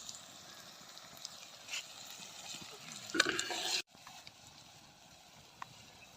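Green chilli and tomato fry softly in a pan while being stirred, a faint sizzle punctuated by scraping strokes that swell into a brief louder burst before settling back.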